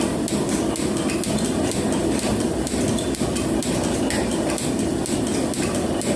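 A metal planer takes a sharp-tooled cut across the second flat surface of a metal workpiece, a steady, loud mechanical clatter with repeated knocking strokes and scraping throughout, no voices.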